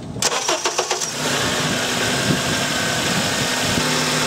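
A car engine cranks with several rapid starter pulses, then catches and settles into a steady, close idle that hums on alone, during brake booster and vacuum hose testing.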